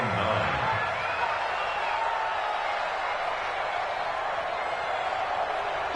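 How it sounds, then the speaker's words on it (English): Stadium crowd noise in an American football video game builds before a big third down, a steady, moderately loud roar that holds evenly throughout. "The crowd getting into it as we come up on a big 3rd down."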